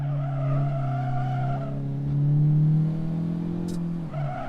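Tires squeal steadily on a race track as a car brakes late at a Honda track meet, a loud sustained skid over a droning engine tone that lasts several seconds, with no talk.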